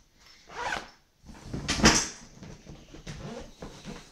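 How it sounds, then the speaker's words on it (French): A zipper on a Facom tool bag is pulled open in a few quick, close rasping strokes, with a louder burst in the middle and no talking. "Et là, on a fermeture éclair pour pouvoir mettre d'autres choses."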